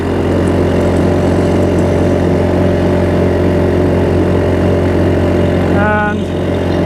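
The outboard motor on a homemade 8 ft plywood boat drones steadily with a loud, low hum and holds its pitch for the whole stretch. A brief creaking whine comes through near the end.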